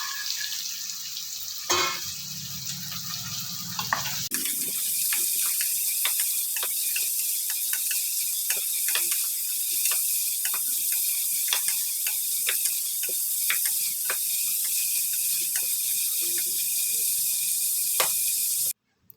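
Chopped green vegetables for palav hit hot oil in a pan after the onions. A soft clatter drops in first, then a loud, steady sizzle hisses on with repeated scraping stirs, and no one speaks.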